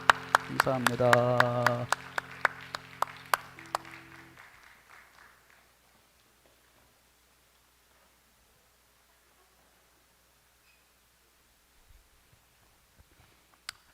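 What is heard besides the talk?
applause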